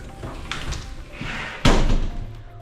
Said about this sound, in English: Security door out front here.